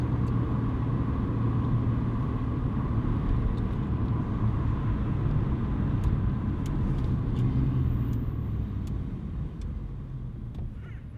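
Steady low rumble of a Renault RS hatchback with over 220 hp cruising, heard from inside the cabin, continuous and fairly loud throughout with faint higher sounds over the drone.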